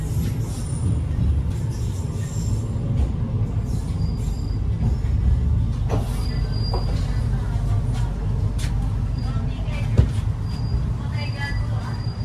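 A KA Jayabaya train pulls into Bangil station. Heavy rail rumble and low-frequency wheel and carriage noise run steadily throughout, with brief clanks and high squeals. A voice talks over it in places.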